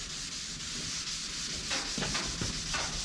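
Fresh paint on a car panel being scuffed with a Scotch-Brite abrasive pad, a steady close rubbing hiss with a few harder strokes near the end and no talking.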